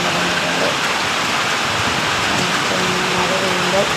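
Rain falling steadily outdoors in Kerala, a dense continuous hiss of drops with faint tonal hum in the background and no pauses.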